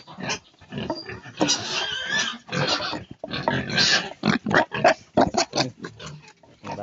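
Pigs on a pig farm grunt and oink in a rapid, irregular run of close, loud calls, some harsher and growl-like, with no speech.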